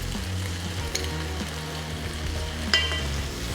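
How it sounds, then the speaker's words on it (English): Beef brisket stir-frying in a pan, a steady sizzle running throughout with a couple of brief clinks from stirring, close and moderately loud with no talking. "Mix it all up, stir fry in a bit."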